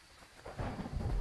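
Rain and rolling thunder in the Phasmophobia horror game, rising from a quiet start into a loud, low rumble that swells and holds through the second half, with no voices.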